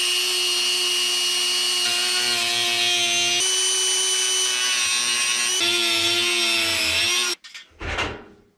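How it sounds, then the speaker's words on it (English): A high-pitched Dremel rotary tool whines steadily, its pitch dipping as it bites into plastic, then cuts off, followed by brief scraping and rustling. "I'm gonna drill or cut out a hole, probably with a Dremel."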